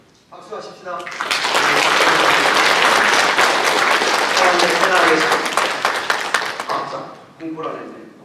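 Congregation applause after a baptism in a church service, a broad sustained wave of clapping that swells quickly, holds for several seconds, then thins out, with a voice speaking briefly at the start and end.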